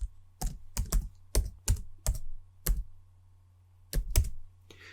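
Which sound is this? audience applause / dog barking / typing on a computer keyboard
typing on a computer keyboard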